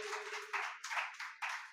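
Congregation at a Sunday church service clapping loudly, a dense patter of many hands rising in a few surging waves over a short stretch, with no talk.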